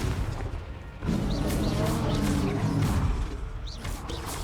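A fiery Confringo blasting spell going off during Hogwarts Legacy combat, a dense, continuous roar of blasts and crackling impacts with no quiet gaps, loud and close.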